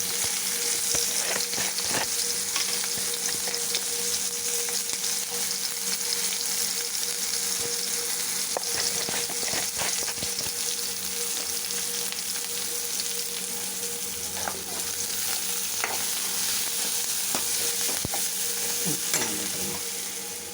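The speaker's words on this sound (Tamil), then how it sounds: "வெங்காயம் நல்லா வதங்கட்டும்." Onions sauté in a pan with turmeric and salt, sizzling steadily and close for a long stretch while a spoon stirs and scrapes now and then in irregular clusters, with no voices.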